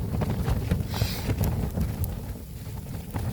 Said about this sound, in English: tell you what, it's wind, man